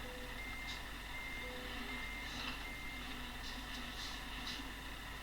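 Steady electronic reversing beeps from a lorry in Euro Truck Simulator 2, repeating at an even pace over a low constant engine rumble.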